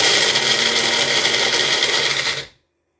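A kitchen grinder roars loudly as it pulses dehydrated garlic into powder, a dense steady whir that runs for over two seconds, then cuts off abruptly into silence.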